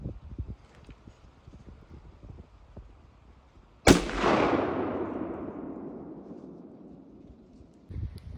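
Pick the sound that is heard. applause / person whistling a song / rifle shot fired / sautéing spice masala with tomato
rifle shot fired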